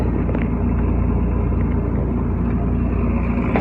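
A sailboat's outboard motor runs steadily at close range after a clogged fuel line was cleared, producing a loud, continuous low rumbling drone with no voices over it.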